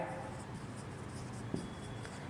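Pen or marker writing on a board in a classroom set theory lecture, a faint steady scratching with a soft tap near the middle, quiet and close.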